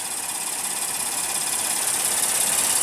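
A 2015 Acura TLX with a single-overhead-cam 3.5-liter V6 idles steadily, a smooth, even engine hum that holds at a constant level throughout with no talking.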